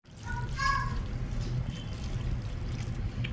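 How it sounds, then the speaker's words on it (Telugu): Water poured into tomato puree in a pan while a brinjal gravy cooks, a brief splashing pour at the start that settles into a low, steady kitchen hiss, with a short voice-like sound near the beginning. "ఈ టొమాటో గుజ్జు అలాగే కొన్ని వాటర్ యాడ్ చేసుకొని అది కూడా మనము కుక్ చేసుకుందాము।"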